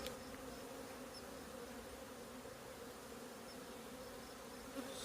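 Honey bees in a nuc box make a dense, steady buzzing hum, close and continuous, with no voices.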